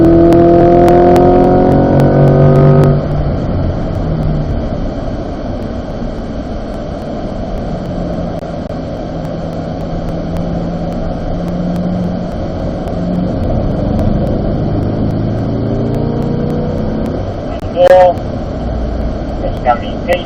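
A Chevrolet Corvette C8 Z51 engine drones steadily on a racetrack, starting loud and easing to a sustained hum, with an instructor's voice heard near the start and brief sharp noises later on.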